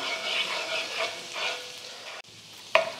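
Hot oil sizzles steadily around garlic in a pan, with soft stirring scrapes over the hiss and a sharp utensil clink near the end.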